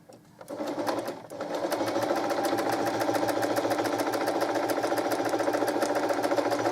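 A sewing machine stitches quilt block pieces together with a quarter-inch seam, starting after a brief stop-start and then running in a fast, even, rhythmic whir, close and alone.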